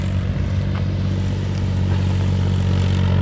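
A Valtra A950R tractor drones loud and steady while pulling a 14x28 disc harrow across a field, its engine hum continuous and close with faint rattling over the top.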